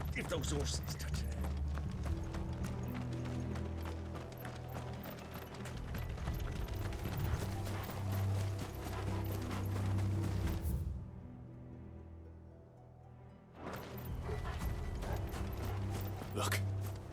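Horses' hooves clip-clop steadily in Final Fantasy XVI, a rhythmic clatter mixed with music and game sounds, briefly dropping away before resuming, with voices speaking.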